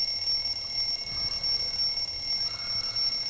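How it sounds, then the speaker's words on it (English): Several alarms ring at once through a house in a CGI animated short, a steady electronic beeping that sustains without break at constant loudness and stays alone throughout. "Every alarm going off in the house, bro."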